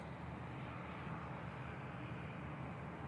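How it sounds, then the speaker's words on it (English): Distant jet aircraft backtracking along the runway at Manchester Airport, a faint, steady broadband roar with no other sounds. "Quite a rare sight in Manchester to see these aircraft backtracking."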